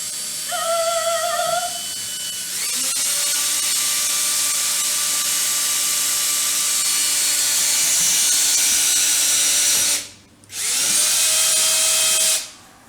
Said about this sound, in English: And Taylor is going to be brave and is going to drill.